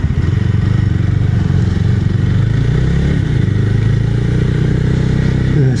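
A BSA Gold Star 650 motorcycle runs underway, a loud, close, steady single-cylinder thump with a slight pitch shift as the engine changes speed, no voices.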